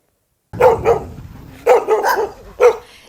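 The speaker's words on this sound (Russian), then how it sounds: "Во дворе дома С-25 уже давно поселилась стая бродячих собак." A stray dog from a pack living in an apartment courtyard barks close by in short bursts, two quick barks, a pause, two more, then a single final bark, alone with no talk.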